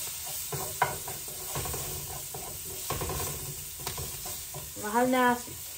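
Chopped onion and garlic sizzle in a hot pan while being stirred, giving a soft, continuous frying hiss broken by scraping strokes and a louder clatter near the end.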